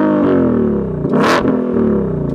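A 2020 Shelby GT500 idles in sport exhaust mode with a throaty rumble, then blips the throttle once for a sharp, loud rev that settles back to idle.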